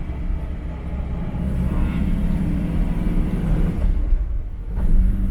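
A Morris Minor car driving on a road test, its engine a low steady rumble with road noise, swelling slightly as it moves along, heard alone without talk.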